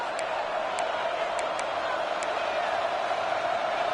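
Dense, steady roar of a packed American football stadium crowd at a Miami versus Florida State game, loud and continuous with a few faint whistle-like peaks above it, building pressure before a fourth-and-goal snap.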